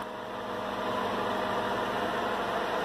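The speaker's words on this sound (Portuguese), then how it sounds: "barulho do motor" A 2000 Honda Civic LX automatic engine idles with a steady, low rumbling hum and a faint mechanical whir, constant throughout with no voices.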